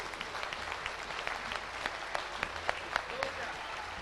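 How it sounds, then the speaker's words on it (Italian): An audience at a Lega party rally in Chirignago claps steadily, a dense even patter of many hands with a few louder claps standing out, heard from some distance. "Grande il nostro Luca Zaia, grande, un applauso ancora"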